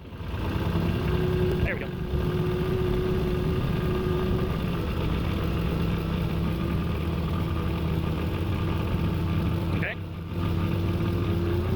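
A 1987 Dodge Ramcharger engine drones steadily while the truck is driven, a loud, continuous low rumble with a brief dip in pitch during a gear change, someone speaking briefly over it.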